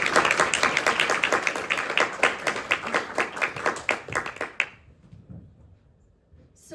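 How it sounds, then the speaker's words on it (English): Audience clapping at a talk in Madison, a dense burst of many hands applauding together, steady and fairly loud, then breaking off abruptly into near silence. "Can we clap now?"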